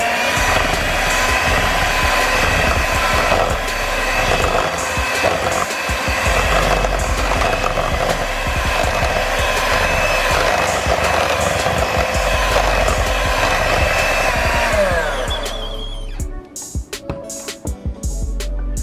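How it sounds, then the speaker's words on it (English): Electric hand mixer stirring flour into banana bread batter, a steady loud motor whine with churning texture running continuously, then cutting off near the end, followed by a few faint clatters. "Stir until the flour is incorporated."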